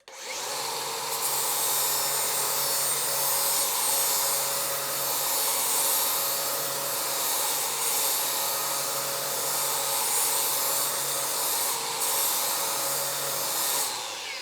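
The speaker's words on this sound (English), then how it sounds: "grind all of the mill scale and all of the saw marks out of the plate" Flap disc on an angle grinder steadily grinding mill scale and saw marks off a steel plate bevel, a continuous loud close whine with a bright hissing edge and no pauses.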